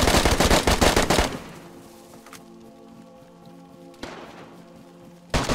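Gunfire in the DayZ video game: a close burst of rapid shots opens the clip, then a quieter stretch broken by single sharp reports and another shot at the end.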